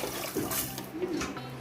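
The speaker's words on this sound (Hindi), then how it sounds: "इसमें 6 गिलास पानी ऐड कर देंगे।" Water is poured into a cooking pot of mutton paya made from goat trotters, tomato already added, giving a close, continuous splashing rush for a short moment.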